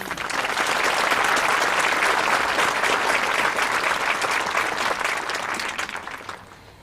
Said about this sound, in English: So another round of applause for them, please.